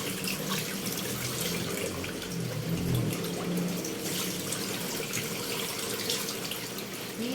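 Tap water runs steadily into a sink while market-bought chicken is washed, a continuous close splashing rush with no talk over it.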